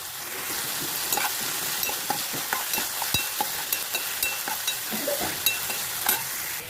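Onions and green chillies frying in a pan for carrot curry, a steady close sizzle with frequent stirring scrapes and small crackles throughout, no talk.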